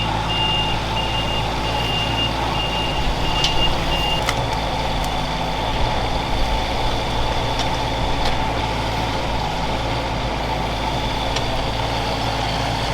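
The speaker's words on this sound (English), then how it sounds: "I refilled the holes and then compacted it with the excavator" Reversing beeps from an excavator ring out steadily over a continuous engine rumble while it compacts refilled tree holes in a backyard, the tone repeating in an even rhythm before the engine carries on alone.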